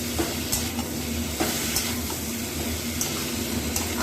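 Fried pointed gourd is stirred in a pan over low sizzling, with a spatula scraping and knocking against the metal at irregular intervals, close and moderately loud.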